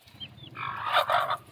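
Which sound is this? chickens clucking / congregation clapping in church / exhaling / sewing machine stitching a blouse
chickens clucking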